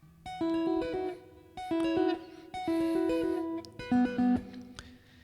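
A tapped guitar plays a treble riff part in a slightly higher register around a different chord shape, four rhythmic phrases of bright, clear notes, close and solo without speech.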